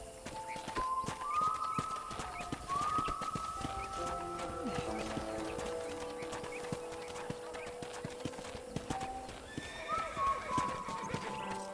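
Horse hooves clip-clopping in the video game Red Dead Redemption, a steady rhythmic walking gait sounding under game dialogue with music and occasional whinnies, fairly quiet overall.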